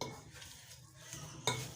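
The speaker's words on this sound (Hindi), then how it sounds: "और इसको कर लेंगे अच्छे तरीके से मिक्स।" Masala paste mixed with water in a bowl for spicy fried fish, quiet scraping and stirring with a spoon and a sharp clink of metal against the bowl near the end.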